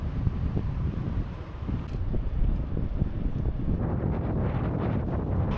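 Wind of about 20 km/h roars steadily across the microphone of a cyclist riding on a clear late-November day, a loud continuous buffeting rumble with no voices.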